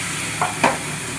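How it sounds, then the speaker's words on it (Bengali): Spices fry with browned onions in a pan under a steady low sizzle, with two brief stirring scrapes close by. "এবার আমি মশলাটাকে দিয়ে কষাবো।"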